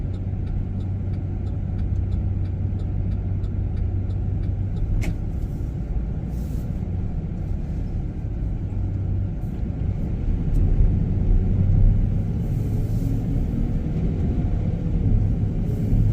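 A car drives along a road heading to a Kroger on Main Street in Cartersville, Georgia, with a steady close low rumble of engine and tyre noise throughout.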